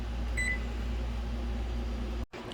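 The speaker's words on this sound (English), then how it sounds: "The timer went off." An oven timer going off in a home kitchen after baking banana oat cookies, a short faint beep over a steady appliance hum, followed by a brief click.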